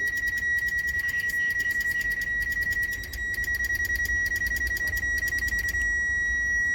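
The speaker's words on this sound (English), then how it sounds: "That beeping is just from my probe." Rapid, steady high-pitched electronic beeping from a probe repeats in quick bursts, with a brief pause midway, over a low hum and no voices, during an LED light bar install on a 2019 Toyota Tundra.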